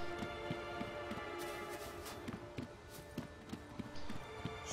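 Horse hooves in The Witcher 3 video game, a steady, regular clip-clop of hoofbeats at a walking pace, fairly quiet, over a soft in-game ambient backdrop.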